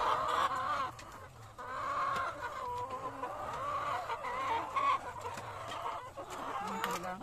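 Several chickens cluck and murmur continuously nearby, with occasional sharper calls rising over a soft farmyard background.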